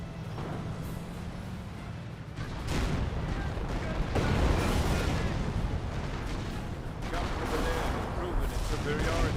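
Artillery barrage in the World War II strategy game Company of Heroes: a dense, continuous roar of shell blasts and crashing impacts, loud and sustained throughout.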